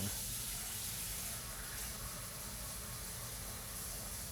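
Tap water runs steadily into a kitchen sink while a whisk is rinsed, a continuous broad rushing hiss that stays even and close throughout, with no talking.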